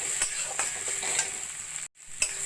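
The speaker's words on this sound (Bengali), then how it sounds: "কাজু কিশমিশটাকেও গাজরের সঙ্গে একটু ভাজা ভাজা করে নেব।" Cashews and raisins fry with grated carrot for carrot halwa, giving a steady close sizzle broken by several sharp scraping stirs and one brief silent gap.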